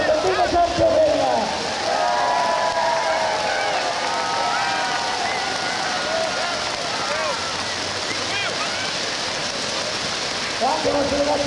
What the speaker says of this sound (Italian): un applauso, viva Santa Eugênia!